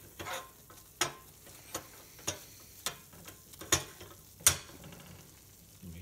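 A metal utensil scrapes and taps in a nonstick frying pan as food sizzles, with about seven sharp, close clicks spaced roughly every half second over a steady low fry.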